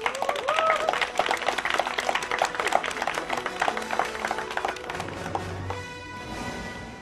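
Spectators at a youth day beach football competition clap for a team, a brisk patter of hands mixed with voices that thins out after several seconds into a quieter tonal hum.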